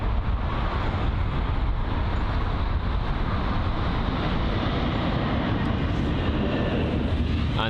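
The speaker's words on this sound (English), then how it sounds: "so it looks to be an A320. Yeah, so the standard A320-200." A British Airways Airbus A320-200 arrives at London Heathrow, a broad, steady jet roar and rumble holding loud and unbroken throughout.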